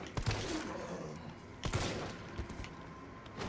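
Gunfire in the Resident Evil 3 Remake video game. Two punchy shots about a second and a half apart ring over dense, noisy game ambience, with fainter thuds in between.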